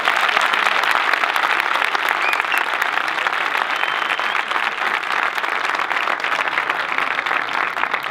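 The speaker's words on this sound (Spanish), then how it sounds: "un fuerte aplauso para venir aquí hoy" Large audience at a documentary screening gives sustained, dense applause, many hands clapping steadily for several seconds at close range with no talk over it.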